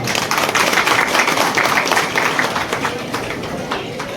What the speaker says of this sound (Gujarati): માતાજીને તાળીઓથી વધાવો